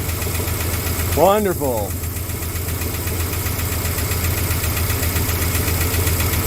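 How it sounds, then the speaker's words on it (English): A Magnum 360 V8 idles steadily and close by, with a light, rapid lifter tick running through the rumble. A voice briefly speaks over the engine near the start. "it's also got like a lifter tick now too"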